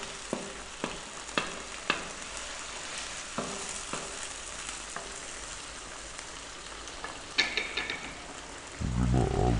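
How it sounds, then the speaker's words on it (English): Garlic ginger paste hits a pan for yellow dal, giving a soft, faint crackling sizzle dotted with scattered pops and clicks, and a low rumble rises at the very end. "we're now going to drop in that 1 tablespoon of garlic ginger paste"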